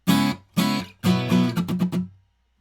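Guitar plays the muted-strum section of a song, with two short strummed chords followed by a longer burst of quick choppy down-up strokes. Each strum cuts off sharply into silence, close and fairly loud, with no talking.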